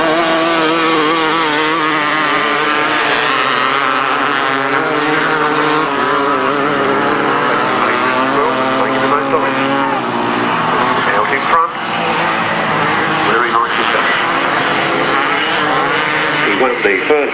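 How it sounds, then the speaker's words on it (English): Several 250cc motorcycles race on a grasstrack in 1996, their engines a loud, continuous droning whine that rises and falls as they circle, with an announcer talking over the noise throughout. "in race 15, the 250s are in action again"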